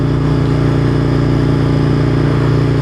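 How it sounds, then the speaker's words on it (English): Aprilia motorcycle engine running loud and close, a steady buzzing mid-pitched drone with a fast regular pulse, constant and unbroken with no talk. "I would admit this bike is very noisy, to say the least."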